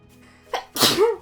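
A single sharp human sneeze, a soft inhaled build-up followed by a loud explosive burst, heard close and alone.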